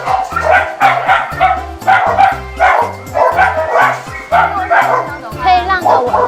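Several dogs at an animal shelter adoption event bark and yip in a steady, repeated rhythm close by, with a few whimpers mixed in and people talking underneath.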